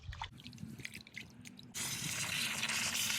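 Rice being rinsed in water to wash off excess starch: soft drips and sloshing, then a steady rush of running tap water filling over the grains, close and quiet with no talking.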